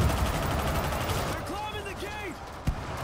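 A rapid run of gunshots in the World War Z zombie game, followed by quieter game sounds and one sharp single shot near the end, with a player talking.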